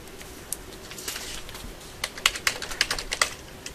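Computer keyboard typing, sparse at first and then a quicker run of clicking keystrokes in the second half, close and fairly quiet with no voices.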